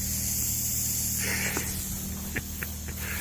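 A steady hiss of water spraying from a hose runs throughout, with a low engine hum underneath and a few faint clicks near the end.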